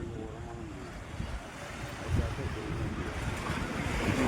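Sea waves washing onto the shore at Mariyur near Rameswaram, a steady broadband wash with a louder surge midway and wind buffeting the microphone, no clear talk.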